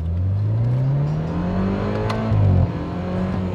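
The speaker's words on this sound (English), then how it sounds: "My engine is sounding a lot better now that Kogu suggested me to go with 5W40." A used car's turbocharged engine revs loudly up close, its pitch climbing steadily, then dropping and surging again with a whir over a constant mechanical drone.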